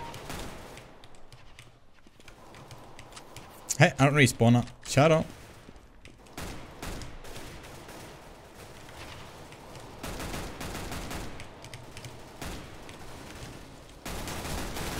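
A CS:GO deathmatch with a quick cluster of close, loud gunshots, then scattered fainter shots and game noise while a voice talks over it.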